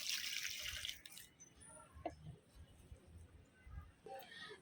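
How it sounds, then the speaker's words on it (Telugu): Water splashes and trickles onto potted flowering plants during a garden watering, with louder gushing bursts at the start and end and a softer, uneven dribble in between, fairly faint overall. "ఇలా మన మొక్కలన్నిటికీ కూడా ఇది వాటరింగ్ చేసేసుకుందామండి"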